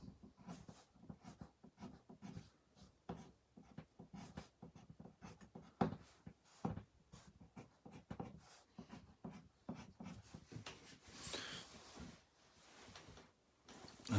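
A pencil draws light, curvy lines on paper for a baby Yoda portrait, giving close, continuous soft scratching strokes in an uneven rhythm with brief pauses and no talking.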